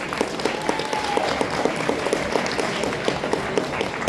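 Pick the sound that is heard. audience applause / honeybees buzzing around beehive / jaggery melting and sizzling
audience applause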